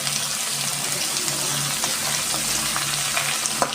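Onions sizzling steadily in a pan on the stove for a coconut onion dish, a continuous close hiss and crackle broken now and then by faint scrapes from stirring.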